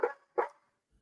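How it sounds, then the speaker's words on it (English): A dog barks twice in quick succession, fairly close and sharp, and then goes quiet. A faint low thump follows near the end. No one talks. "Sorry about the dog. They're barking."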